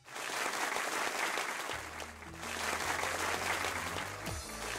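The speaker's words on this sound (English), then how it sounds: "I got a new clap sound effect" A crowd applause sound effect plays as a dense, sustained wash of many hands clapping, loud and continuous throughout, with a faint low hum beneath.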